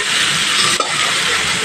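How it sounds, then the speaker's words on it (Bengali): Chopped onions fry in hot oil with five-spice, a loud, dense, continuous sizzle close at hand with one brief stir-like break near the middle, no voices. "এবার এখানে আমি 5 ফোড়নটা দিয়ে 2 সেকেন্ড ভেজে নেওয়ার পর কুচানো পেঁয়াজটা দিয়ে দিলাম।"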